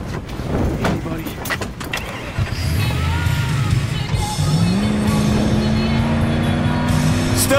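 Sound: car driving fast with tires squealing, from the video game Battlefield 4

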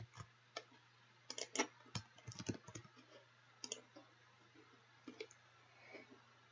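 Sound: computer mouse double-clicking

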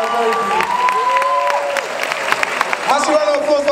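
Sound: audience applause at Miss West Africa pageant

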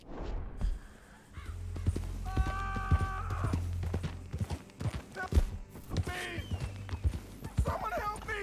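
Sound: horse hooves from the video game Red Dead Redemption 2

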